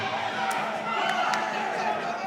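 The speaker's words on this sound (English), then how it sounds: "Crowd's going wild." The crowd at a women's Muay Thai title fight in the fifth round cheers and roars continuously at a distance, with a few sharp thuds and shouts rising above the din.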